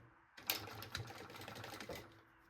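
A sewing machine stitches close along a marked line on a small fabric pocket for a baby backpack, running in short, fairly quiet bursts with a few clicks near the start.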